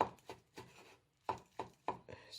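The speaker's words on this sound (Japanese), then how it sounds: "千切りにします。" A knife slices sweet potato vines into thin julienne strips on a cutting board, giving quiet, crisp chops in two short bursts of three strokes separated by a brief pause.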